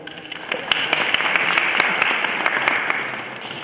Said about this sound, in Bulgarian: бих ви помолила за аплодисменти в началото